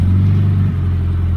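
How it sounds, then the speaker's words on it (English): A Scion FR-S with an aftermarket muffler idles loudly and evenly with a deep, mellow exhaust drone, then the tone shifts slightly partway through a brief rev. "Rev it. The tone isn't bad. It's just very mellow."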